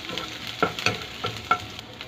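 Onion or garlic sautés in a hot pan for chicken caldereta, a close, continuous sizzle broken by several sharp scraping stirs of a utensil.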